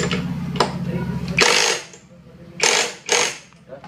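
Wrench work on the CVT of a Yamaha Grand Filano scooter: a buzzing mechanical whir for over a second, then several sharp close ratcheting bursts separated by pauses, with someone speaking.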